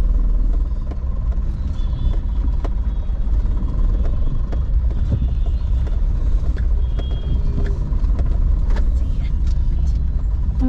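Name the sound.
interior of a moving car while driving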